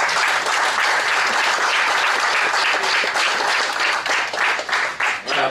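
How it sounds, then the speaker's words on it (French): Sustained audience applause at an inauguration ceremony for Lexy Park, dense and loud throughout, with many hands clapping steadily before tapering slightly near the end. "on peut l'applaudir"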